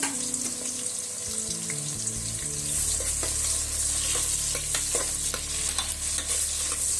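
Onions fried in a pan with whole spices, a steady broadband sizzle with scattered stirring scrapes and clicks throughout, close and fairly loud, with a low hum underneath and no talking.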